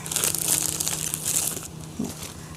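A plastic bag crinkles and crunches close by as it is handled while potting taro plants, a busy run of dry rustling bursts that eases briefly before one last crackle.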